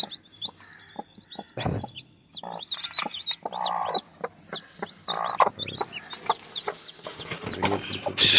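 A native country hen clucks repeatedly nearby, with scattered thumps and rustling between the calls and high chick peeps running throughout.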